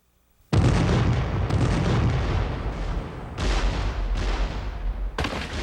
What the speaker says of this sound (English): General Lee first ordered more than 130 Confederate cannon along a 2-mile front to open fire against the Federals on Cemetery Ridge